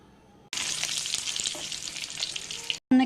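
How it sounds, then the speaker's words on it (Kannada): Curry leaves drop into hot oil for lemon rice, bursting into a sudden loud crackling sizzle that spits and pops for about two seconds, followed by a brief stir. "ನಾನಿಲ್ಲಿ ಕರಿಬೇವಿನ ಎಲೆಗಳನ್ನು ಹಾಕ್ತೀನಿ."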